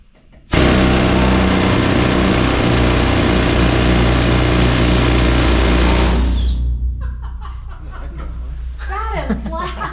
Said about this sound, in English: compressed air runs in my drill head down this leg, and it shoves into the rock for me